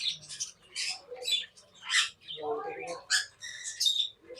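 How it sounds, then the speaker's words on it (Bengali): Many birds in a large aviary at an ashram in Bandel chirp, squawk and whistle in dense overlapping bursts, a lively close chorus with no pauses. "তোমরা শুনতেই পাচ্ছ পাখিদের কোলাহল"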